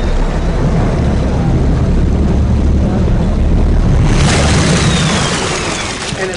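A Torqeedo Travel 801 electric outboard motor runs loud and steady with a broad rushing drone and churning water. The sound brightens and intensifies partway through as the throttle changes.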